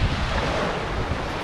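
Sea waves wash steadily onto the shore at Liepāja's southern forts, a continuous broadband surge mixed with wind buffeting the microphone, with no speech.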